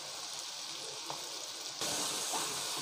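Green chilies hitting hot oil in a pan with onions and ginger garlic paste give a steady, close sizzle throughout, growing louder and denser partway through.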